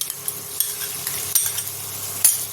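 Beaten sour yogurt being stirred into pointed gourd in a pan, with a soft sizzle under repeated scraping strokes of a spoon against the pan.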